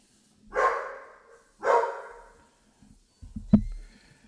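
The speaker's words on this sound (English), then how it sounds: "He's barking." A dog barks twice with a pause between, then gives a few shorter, sharper barks, fairly close in a quiet room.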